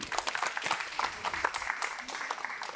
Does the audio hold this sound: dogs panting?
no